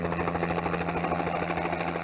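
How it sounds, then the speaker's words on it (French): Israeli police surveillance helicopter flying, a steady loud rotor thump and turbine drone with no talk. "d'une propre unité d'hélicoptères utilisée donc pour la surveillance aérienne"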